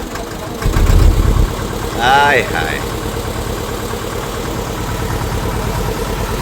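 A trawler's engine runs steadily on a river at night, a low constant rumble with a louder surge early on, while a voice cries out briefly over it.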